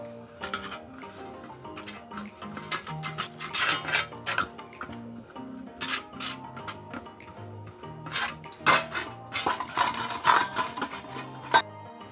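Metal plates clink and scrape as oil is rubbed over them for making daler bori, Bengali lentil dumplings, with repeated light clatter over steady background music.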